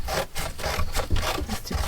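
A gnarly, rough strip of paper being cut by hand for a junk journal, giving a steady, close scratchy rasp of repeated short strokes with no talking.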